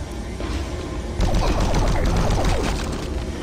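Rapid bursts of automatic gunfire from a new weapon in the video game Doom 3, loud and close, firing in a sustained rattling stream.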